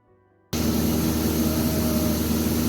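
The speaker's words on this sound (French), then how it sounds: "voici un petit clip vidéo où je conduis en fait un hélicoptère sur Paris" A helicopter flies over Paris, its engine and rotor suddenly loud after a brief quiet start, then a steady, dense roar that fills the rest of the moment.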